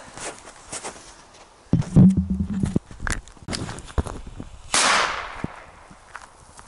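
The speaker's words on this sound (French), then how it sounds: "pour tester ce petit mortier fabrication maison" Homemade mortar built from Bison firecrackers fires outdoors, giving a sharp close bang followed by a hissing burst amid scattered knocks and a few short voiced sounds.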